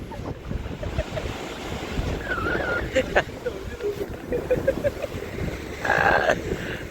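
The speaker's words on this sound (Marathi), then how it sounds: "चलो आता आम्ही आलोय देवबाग बीचला" Sea waves wash in at Devbag beach, a steady broadband surf roar with wind buffeting the microphone, while voices talk over the water noise throughout.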